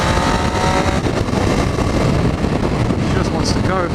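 A Triumph Street Triple motorcycle engine roaring steadily on a countryside ride, loud and close, with heavy wind rush over the microphone throughout.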